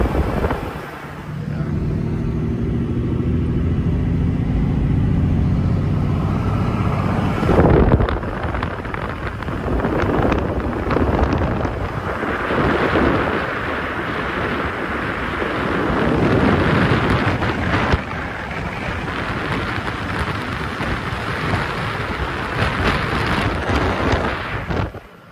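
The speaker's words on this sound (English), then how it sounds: "Mind the wind, you guys." Strong wind gusts buffeting the microphone outdoors on a mountain road near Big Bear in San Bernardino, a loud continuous rumbling roar that swells and dips throughout with no talking.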